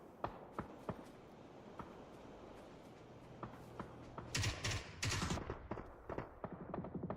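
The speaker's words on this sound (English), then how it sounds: "Shots coming out from Vinny" Scattered gunshots in a video game battle with mortars nearby, sounding as sharp separate cracks and short bursts of varying loudness, some distant and some close, with two louder volleys near the middle.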